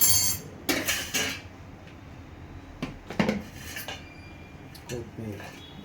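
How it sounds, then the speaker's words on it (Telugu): Coriander leaves chopped on a board while making atukula mixture, giving a handful of sharp, irregular knife strikes, close and moderately loud, with quiet pauses between them. "కొత్తిమీర చాపింగ్"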